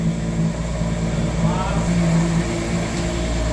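A Ferrari Purosangue V12 runs on a cold start with a steady, close idle drone and a slight rise in revs, while a voice talks over it.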